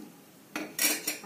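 Metal utensil scraping and clinking against a pot while tomato rasam is stirred, three or four short bright strokes after a quiet start, fairly close and with no talking.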